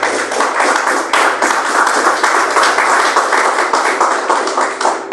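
A church congregation applauds steadily for several seconds, a dense, even wash of many hands clapping close by with a low electrical hum underneath.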